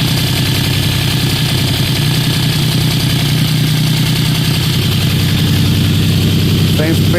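A Geo Metro engine with a newly replaced gasket idles steadily nearby, a constant mid-pitched hum with a faint periodic throb and no revving, some soft background noise over it.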